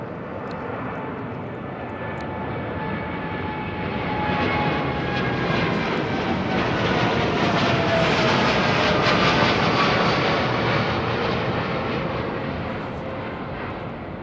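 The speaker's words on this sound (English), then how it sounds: "Floating off the runway today, these Dreamliners, man." A Boeing Dreamliner jet climbs out of London Heathrow directly overhead, a loud sustained engine roar that swells to a peak midway and slowly fades, with no voices.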